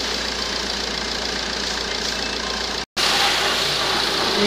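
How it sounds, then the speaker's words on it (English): Citroen C-Elysee 1.6 HDi diesel engine idling steadily to warm up, a close, even hum with a faint diesel clatter; it cuts out for a split second near the middle, then resumes unchanged. "Now we are going to let the engine to work until it reaches working temperature."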